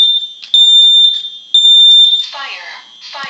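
A Simplex home smoke alarm sounds during a test, giving loud, piercing electronic beeps in repeated bursts, followed by brief voice-like warning tones near the end.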